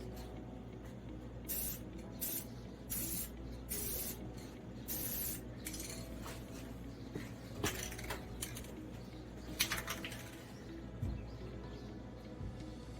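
Spray can laying down paint with built-in primer on a Suzuki Samurai rocker panel, heard as several short hissing bursts over a steady low background hum, with faint bird calls outdoors.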